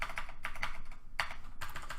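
Quiet, clicky keystrokes on a computer keyboard arrive in short irregular clusters, close up and alone.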